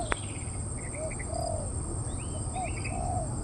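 A decoy bird used as a lure calls repeatedly to draw down a female, its short chirps and whistled coos recurring at moderate distance over a steady outdoor hum with insect-like buzzing.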